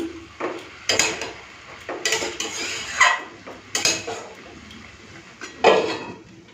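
Banana flower being mixed with spices in a pot, a series of sharp metallic spoon knocks and scrapes against the pot at irregular intervals, close and fairly loud, no talking.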